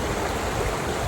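Steady, rushing water noise fills the whole moment, a continuous broadband flow like a nearby stream running over rocks, with no voices, at a stream crossing on the Ozark Highlands Trail.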